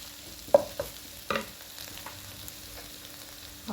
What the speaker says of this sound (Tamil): இப்போ நல்லா பரட்டிட்டு இறக்கிட்டு